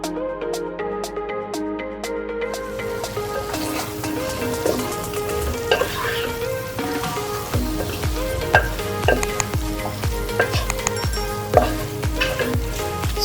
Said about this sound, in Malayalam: ഇനി ഇതിലേക്ക് വറുത്ത് വെച്ചിരുന്നതെല്ലാം കൂടെ ചേർക്കാം. മുളകും കറിവേപ്പിലയും ചിക്കനും.